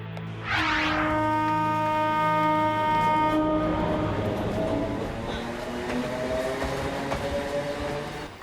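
A cartoon train horn blares, then the train rumbles steadily along with a continuous rolling clatter.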